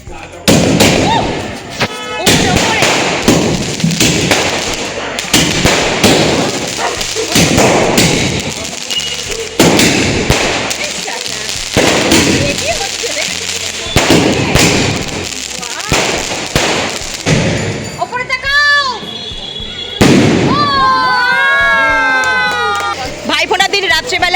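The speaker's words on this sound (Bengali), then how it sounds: "বাজির কোনো শেষ নেই এখনো এক এক বাজি আছে" Firecrackers and fireworks go off at a home celebration during the Bhai Phota festival, a rapid string of loud sharp cracks and thumps with whistling, screeching rockets near the end, while people talk and call out amid the bangs.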